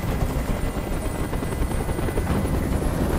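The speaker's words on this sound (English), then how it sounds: "Tell that helicopter to get out of here!" A helicopter in the video game Detroit: Become Human thrums steadily and loudly with continuous rotor chop, heard alone with no talk.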